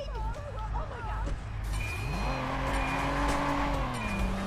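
Car driving and skidding in the Watch Dogs video game: a steady engine drone rises in pitch, with tyre squeal and skid noise carrying loudly over background game sounds and traffic.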